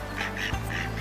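Ducks quack several times in quick succession close by, steady and fairly loud against a constant outdoor background.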